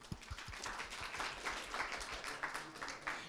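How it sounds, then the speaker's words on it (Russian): Audience applause at the final round of a political debate game, brisk clapping from the hall with a few sharper claps near the start and a scattered, lively texture. "Аплодисменты."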